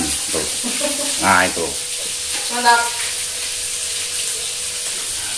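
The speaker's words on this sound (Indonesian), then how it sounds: "Jadi di sana itu lagi ibu-ibu lagi goreng ikan." Fish frying in oil as women cook nearby: a steady bright sizzle running throughout, moderately loud, with a man's brief spoken remarks over it.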